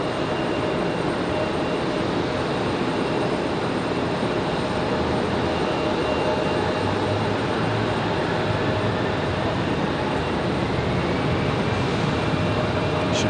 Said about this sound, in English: Should be a nice sounding departure for the 75.